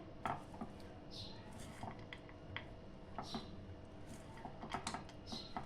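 Puffed rice is stirred through melted jaggery in a pan with the heat off, giving quiet, busy rustling and scattered light clinks of the spoon against the pan.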